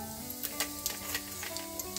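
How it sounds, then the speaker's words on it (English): Cumin seeds sizzle in hot oil in a pan just used for frying peanuts, a soft continuous crackle with small rhythmic pops and ticks, faint and close. "Now in the same pan, we'll put cumin seeds"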